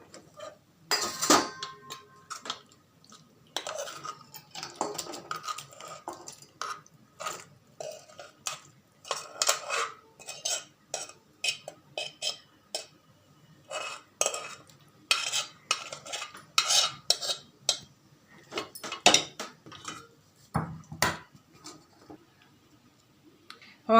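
Bitter gourd curry is served onto a plate, with repeated close clinks, scrapes and clatter of a spoon against dishes in uneven bursts over a quiet background.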